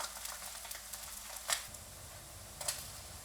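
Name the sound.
spam slices frying in a pan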